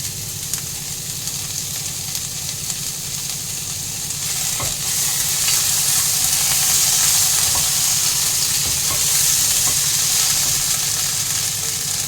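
Ginger paste frying in a pan on a gas stove, a continuous close sizzle with stirring scrapes that grows louder partway through, steady and without voices.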